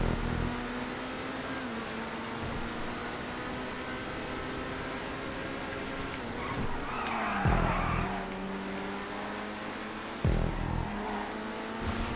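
A car laps a race track in GTA 5, its engine droning steadily with pitch shifts as it accelerates and brakes, punctuated by a couple of loud tire squeals and skids, with no talking.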